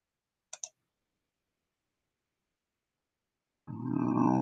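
Two quick computer mouse clicks sound close together while drafting a birdhouse blueprint in design software, followed by a long silence and then a louder, fuller burst of sound near the end.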